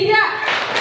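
A brief flurry of children's hand claps, meant as three claps in a group clapping game at a Quran learning center, comes right after an adult's spoken cue and sounds loose and not quite together.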